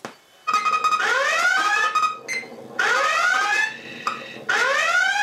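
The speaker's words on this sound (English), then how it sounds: "Make a motion sensor alarm system." A loud electronic motion sensor alarm from an Arduino audio playback module blares in repeated rising sweeps, three long bursts separated by short gaps, harsh and close.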